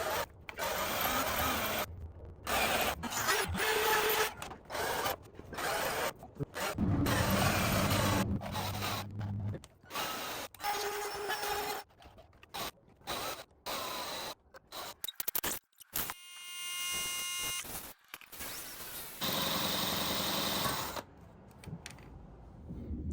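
Intermittent grinding and whining of a drill biting into stainless steel, stopping and starting repeatedly, with scraping and mechanical clatter between bursts.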